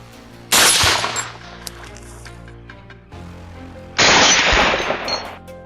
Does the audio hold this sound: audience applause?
no